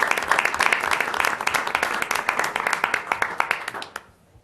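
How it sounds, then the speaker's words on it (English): A school board meeting audience applauds, dense clapping from many hands filling the room for about four seconds before stopping abruptly. "I really would like to ask you to give them a round of applause."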